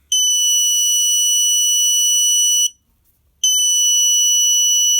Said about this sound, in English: When light cannot get to the phototransistor, the alarm will sound because the electrical resistance will decrease.